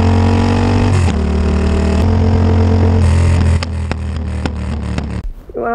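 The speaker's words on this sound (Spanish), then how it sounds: "con este escape cuando va reduciendo y tal va pegando unos pistonazos" A Yamaha MT-07 motorcycle fitted with an AliExpress aftermarket exhaust revs loud and close, then drops as it downshifts, with a run of sharp popping bangs near the end before the engine note cuts away.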